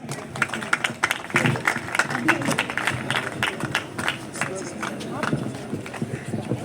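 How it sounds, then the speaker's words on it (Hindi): Loud, dense audience applause and clapping at a live outdoor music event at Connaught Place, New Delhi, with sharp claps rolling continuously through the whole stretch, some voices mixed into the crowd noise. "जोरदार तालियां एक बार"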